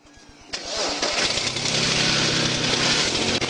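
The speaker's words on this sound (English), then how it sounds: "he locked the door, started the engine, and sped away" A Nissan Frontier pickup engine cranks with rapid rhythmic turning, catches and roars up loudly as the truck accelerates away, the revving engine holding strong to the end.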